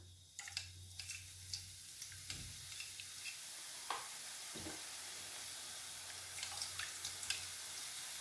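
Laddu batter drips through a perforated ladle into hot oil, giving a soft, steady sizzle with scattered light ticks and small pops, faint and close, with no talk.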